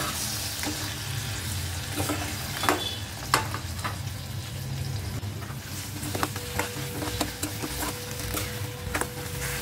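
A ground masala paste for crab masala sautés in a pan with a low, steady sizzle. Sharp clicks and scrapes of a stirring spoon break in now and then, and no one speaks.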